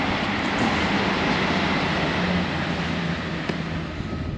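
A train passes on a railway line near Burton Latimer station in Kettering, giving a steady, broad rumble that holds at a moderate level throughout without any talk over it.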